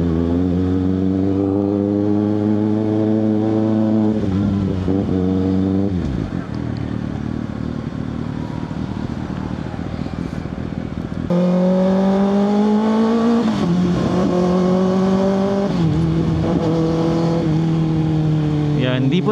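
A Kawasaki ZX6R motorcycle ridden on the road, its engine droning loudly and steadily with rising revs, a dip as it shifts or eases off, then climbing again, while a rider talks over the engine noise.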